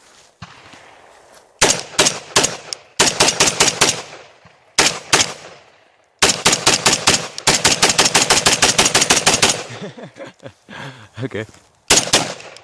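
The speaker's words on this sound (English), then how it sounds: "I'm just gonna kind of shoot in the dirt over there." Gunshots from a 300 Blackout AR-15 build fed from a Magpul magazine, fired into dirt outdoors: loud, sharp reports in several rapid strings and bursts with short pauses between, and one brief spoken word in the clip.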